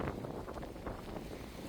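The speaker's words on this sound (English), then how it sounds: "It's a windy day today." Wind blows in a steady, rough rush across the microphone on a black-sand beach with rocks and tide pools at Playa Ocotal, Costa Rica, filling the short stretch with continuous low buffeting and no talk.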